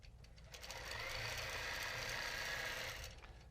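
A sewing machine stitches steadily while freehand quilting a border from a stencil, its fast needle hum building up, holding a level whir for about two seconds, then winding down.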